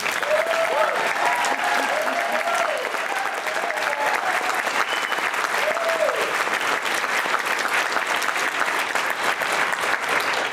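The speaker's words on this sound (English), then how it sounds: "I want to hear a proper round of applause." A crowd at a public meeting in Carroll County bursts into long, loud, sustained applause, dense clapping that stays even throughout, with brief voices calling out over it early on.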